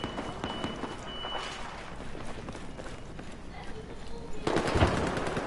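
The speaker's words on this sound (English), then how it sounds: "I heard gunfire" Rapid bursts of gunfire crackle through a Battlefield 4 soundscape, with running footsteps and a louder volley near the end, while players talk.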